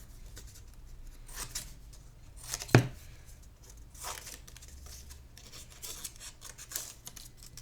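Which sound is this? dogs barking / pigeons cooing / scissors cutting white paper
scissors cutting white paper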